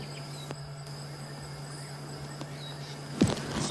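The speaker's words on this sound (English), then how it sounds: "You can hear a bunch of other frogs starting to call behind." Frogs call at sunset in the African bush at Djuma, a faint, steady chorus heard at a distance with a thin, high, sustained drone, broken near the end by a short, sharp knock.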